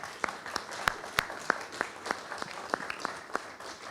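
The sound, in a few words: audience applause for the panelists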